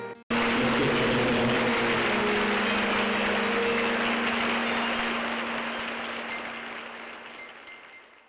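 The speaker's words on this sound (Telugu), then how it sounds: "గట్టిగా చప్పట్లు కొడతాం" A church congregation at a healing prayer service claps loudly and continuously, the dense applause holding strong then slowly fading, with a faint sustained tone underneath.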